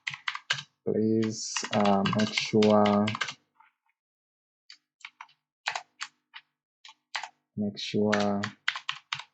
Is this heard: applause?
no